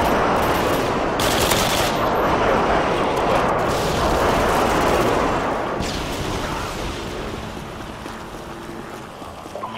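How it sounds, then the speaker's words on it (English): Airstrike explosions in the video game Modern Warfare 2 on the Karachi map during a team deathmatch, heard as a dense, continuous roar of blasts and heavy rapid fire that stays loud throughout and eases slightly near the end. "Friendly airstrike inbound."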